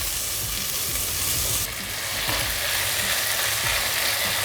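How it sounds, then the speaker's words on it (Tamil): Onions, tomatoes and green chillies frying in a pan for chicken keema biryani, a loud continuous sizzle heard up close, with scraping from stirring mixed in and no talking. "வெங்காயம் நல்லா வதங்கி வருது பாருங்கள்."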